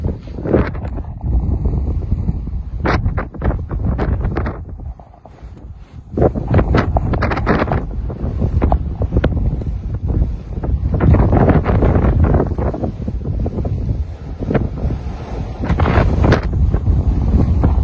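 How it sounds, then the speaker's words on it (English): Strong wind gusts from a winter storm on the coast at Jaywick buffet the microphone in loud, rumbling surges that rise and fall, briefly easing before roaring back harder. "Feel that gust."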